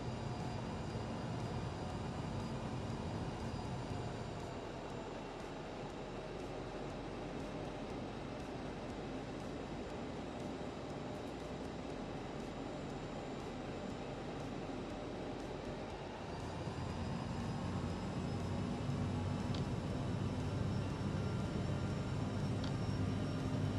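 Airliner engines spooling up on a takeoff roll in a flight simulator game, a continuous broad roar that dips slightly and then swells louder partway through, with no voices over it.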